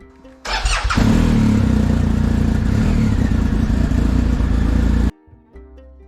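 A motorcycle engine starts up before dawn and settles into a loud, steady running roar close by, holding for several seconds before cutting off abruptly, with faint rumble afterward.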